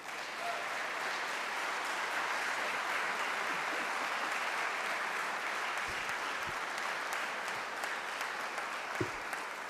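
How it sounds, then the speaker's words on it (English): A large audience breaks into warm, sustained applause to welcome Student Minister Ishmael Muhammad, National Assistant to Minister Louis Farrakhan, a dense, steady roar of clapping lasting the whole stretch. "Please help me to receive with a warm round of applause"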